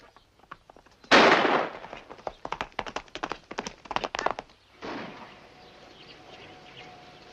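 Rifle fire in an Arizona western: a loud sharp report followed by a rapid irregular volley of cracking shots, then a fading echo and low ambience.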